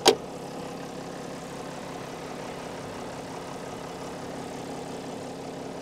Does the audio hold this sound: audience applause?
no